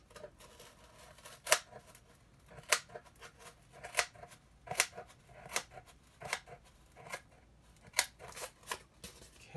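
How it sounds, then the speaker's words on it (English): Scissors snip through cardboard to cut out a square, a string of sharp, crisp clicks arriving every second or so, close and moderately loud with quiet pauses between cuts. "I'm going to cut this square out"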